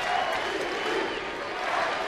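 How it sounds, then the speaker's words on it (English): A baseball crowd chanting MVP in a stadium during a September 2011 game, Pittsburgh at Lansing, heard as a steady, broad roar of many voices from a distance with no clear individual words. "And the crowd begins to chant MVP"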